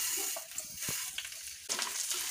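Coarse wheat grits and grated coconut roast in a hot pan for gavhachi kheer, giving a soft continuous sizzle broken by light scraping stirs, with no one speaking.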